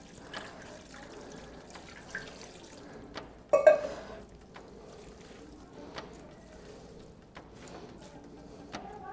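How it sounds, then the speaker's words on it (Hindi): Cold water is poured over drained spaghetti in a home kitchen, with soft splashing, trickling and dripping, one louder splash partway through, close and fairly quiet. "अब इस पर ये मैं ठंडा पानी डाल रही हूँ ताकि ये आपस में जुड़े ना"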